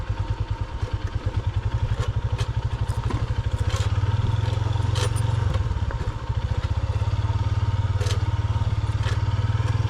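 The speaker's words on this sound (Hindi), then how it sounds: "रोड की कंडीशन और भी ख़राब हो गई है। बहुत ही ज़्यादा जो है ना ख़तरनाक किस्म का ये रोड है, जिसके ऊपर मोटरसाइकिल बहुत ही ज़्यादा स्ट्रगल कर रहा है नीचे उतरने में" A motorcycle labours down a rough, dangerous mountain road near Badgoi Pass, Kohistan, its engine thumping in a pulsing low rhythm, loud and close, with clatters and scrapes from the rocky surface.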